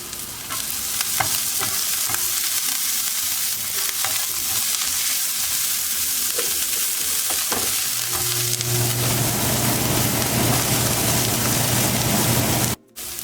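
Urad dal tarka sizzling and frying in a pan just after coriander goes in, a steady loud crackle with occasional stirring scrapes, deepening into a fuller hiss near the end.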